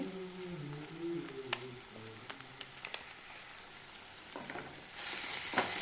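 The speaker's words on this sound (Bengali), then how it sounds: "একটু ধনে গুঁড়ো জিরে গুঁড়ো দিয়ে ভালো করে মশলাটা কষাতে থাকবে" A spice paste of ground coriander and cumin with cashew, poppy seed and melon seed paste sizzles and crackles steadily in a pan, soft and close, with scattered clicks of stirring.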